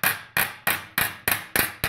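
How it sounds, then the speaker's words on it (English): Claw hammer striking sheet metal to shrink a tuck, seven sharp ringing metallic blows at a steady, even rhythm, close and loud with no talk. "So I'm going to use the hammer"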